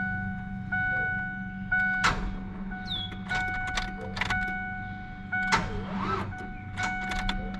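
A seized door lock motor on a Ford Ranger 3.0 trying to run, brief strained clicks and whirs in short repeated attempts over a steady electrical hum and chime tones inside the cab.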